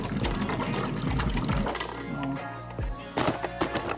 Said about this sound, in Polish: Dobrze tam bulgocze.